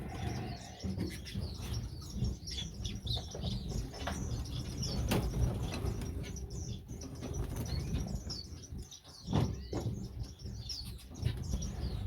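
Canaries in a bird shed chirping and flapping their wings, quick bursts of wingbeats mixed with scattered tweets and calls, close and lively throughout.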